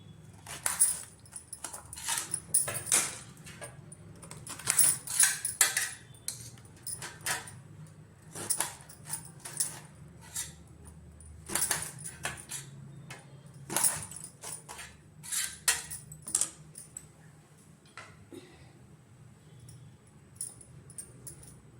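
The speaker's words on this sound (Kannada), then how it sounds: "ಇವಾಗ ಬಾಳೆಕಾಯಿ ಕಟ್ ಮಾಡ್ಕೊಳ್ತೀನಿ ನೋಡಿ ಈ ರೀತಿ ಕಟ್ ಮಾಡ್ಕೊತೀನಿ" Raw plantain being cut into round slices on a board in a home kitchen, a series of irregular knife taps and clicks, some bursts close together and others spaced apart, over a faint steady low hum with no talking.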